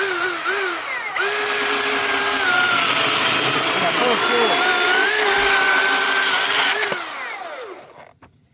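A Milwaukee M18 brushless battery chainsaw runs on its high torque setting, a loud sustained electric whine with shifting pitch that holds for several seconds and then winds down to silence.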